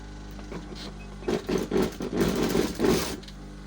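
A sewing machine runs in short bursts while joining a seam on the back panel of a garment, giving a close, rhythmic chatter of stitching that speeds up and pauses several times over a few seconds.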